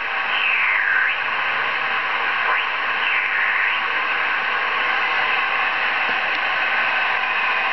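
Steady radio static and hiss from a shortwave transceiver fed by an aviation-type magnetic loop antenna, with faint whistling tuning sweeps drifting through the noise, loud and continuous with no voices.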